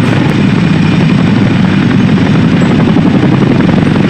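Military helicopter in a dinosaur video game, a loud, steady thumping rotor and engine drone that holds without pause throughout.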